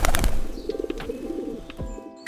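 Birds coo around a field of young banana plants in a cartoon farm scene, soft repeated cooing notes alongside a faint steady tone and a few light chirps.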